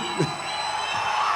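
A packed audience at a Telugu film audio release function for Greekuveerudu shouts, whoops and cheers in a steady loud wash, with a few individual yells poking out briefly.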